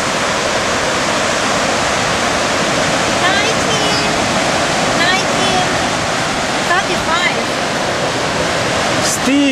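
Stigfossen waterfall at Trollstigen in Romsdal, Norway roars loud and close as a constant, dense rush of falling water, with faint voices at moments.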